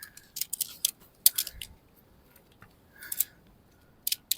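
Light 8.5mm alloy tent pole sections snap together in a series of sharp, irregular clicks and clacks. The sounds come close up and fairly quiet, with short pauses between them.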